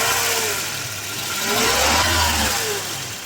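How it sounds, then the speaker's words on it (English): A Volvo 240 DL engine revs up and falls back through a continuous mid-pitched drone, building to a loud peak near the middle before easing off, heard close with no talking. "Rev it some, move the coolant through."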